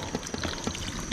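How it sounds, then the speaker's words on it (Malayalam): Fish curry gravy with native snakehead poured at a toddy shop: a short, soft splashing pour with a few trickling drips, fairly quiet and close. "ചാർ ഇങ്ങനെ ഒഴിക്കുവാണ്"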